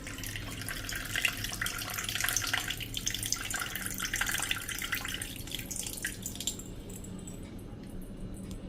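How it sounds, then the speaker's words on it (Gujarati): Coconut water trickling and splashing out of a coconut cracked open with a heavy pestle, a steady wet drip-and-pour flow at close range that thins out toward the end, with no talking. "હવે એને તમારે આ રીતે કાઢી લેવાની છે પાણી"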